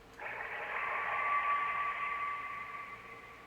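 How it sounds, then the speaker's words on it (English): A phone ringing underwater in the video game Kentucky Route Zero: one muffled, steady ringing tone swells out of a hiss of noise, holds for about three seconds and slowly fades. "That was a phone ringing underwater."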